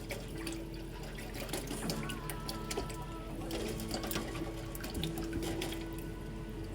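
V8 vegetable juice pours from a large bottle into a soup pot, a steady glugging liquid stream with small splashes, close and fairly quiet, with no talking.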